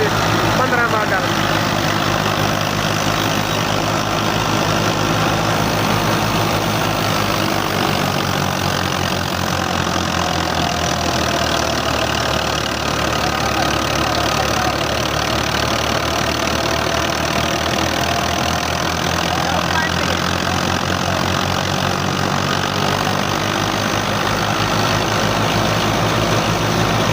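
A 2015 Al Ghazi tractor engine idles steadily and loudly close up for the whole stretch, a continuous low rumble, while a person talks over it at times.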